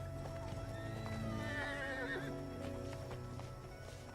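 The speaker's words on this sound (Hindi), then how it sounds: "अभी के लिए तुम हमारे घोड़ा पर आओ।" A horse in a Bollywood action film scene whinnies loudly in a rising, wavering neigh, while hooves clip-clop steadily around it.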